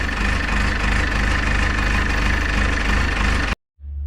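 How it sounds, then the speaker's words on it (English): A cold diesel engine idles steadily and loudly up close, its low rumble and rapid knock unbroken for about three and a half seconds before cutting off abruptly, then a short low thump returns. "Nothing better than a cold diesel."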